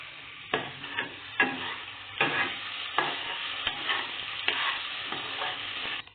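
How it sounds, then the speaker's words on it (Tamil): Onions fried to golden brown get ginger garlic paste stirred in with them in a pan for a Punjabi chicken gravy: a steady sizzle sits under repeated scraping stir strokes, close and fairly loud, with no talking. "நல்லா கோல்டன் ப்ரௌன் கலரில் வந்து வெங்காயம் நல்லா வதங்கிருச்சு. இப்போ நாங்கள் வந்து இஞ்சி பூண்டு பேஸ்ட் சேர்த்துக்கிறோம்."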